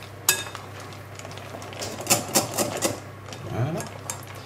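Chocolate cake batter with cranberries stirred in a bowl, a run of close clinking and scraping utensil strokes in an irregular rhythm, fairly quiet.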